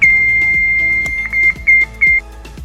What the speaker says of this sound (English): If the Genie Lift Guard Contact Alarm Whisker contacts the obstruction, in this case a doorway, the machine will stop moving and an alarm will sound.